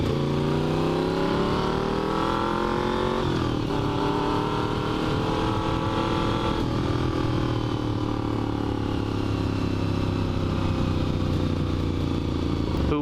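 A Despatch Tracker motorcycle engine drones steadily while being ridden at low revs in one gear, a continuous close hum with gently shifting pitch and wind noise throughout.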